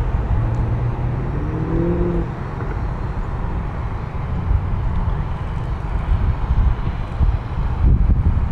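Strong wind blows outdoors during a tiny drone flight, a loud, continuous low rumble buffeting the microphone with slight gusts rising toward the end.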